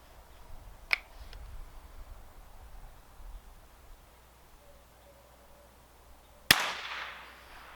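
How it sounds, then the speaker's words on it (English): A Savage Rascal youth rifle fired offhand outdoors with CCI Quiet ammunition: a faint click early on, then one sharp crack that rings briefly, heard near in an otherwise quiet outdoor setting. "to see how the hearing is, or how the noise is with a CCI quiet offhand shooting outside here"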